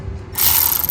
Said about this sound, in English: I'm tightening all the bolts because everything's loose here